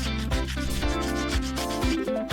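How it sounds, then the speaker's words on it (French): A pencil rubbed against a nail file to sharpen its tip, giving rhythmic scratchy strokes that sit under louder background music. "Je vais frotter mon crayon sur la lime à ongles."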